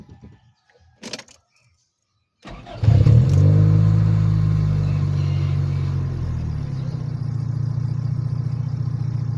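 A car engine cranks briefly after a couple of faint clicks and knocks, catches, revs up loudly, then settles into a steady close idle as it warms up, droning on to the end.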